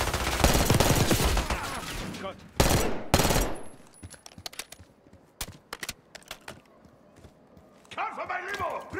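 Machine gun fire in the video game Call of Duty Black Ops 6: loud, rapid automatic bursts open the sequence, then thin out into scattered single shots, with a voice briefly heard near the end.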